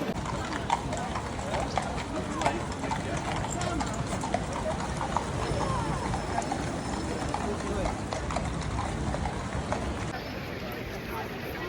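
Horse hooves clip-clop steadily on a paved street in Vienna, with a busy murmur of people and city noise around them.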